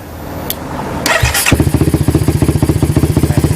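A motorcycle with its exhaust baffle removed, fitted with a stock CBR500 exhaust, fires up and settles into a loud, rapid, pulsing idle with a throaty burble, close by, with no voices.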